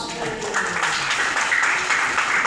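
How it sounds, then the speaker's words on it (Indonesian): A church congregation claps together for Jesus, a thick wash of hand claps mixed with a few raised voices, holding steady throughout. "Tepuk tangan untuk Tuhan Yesus."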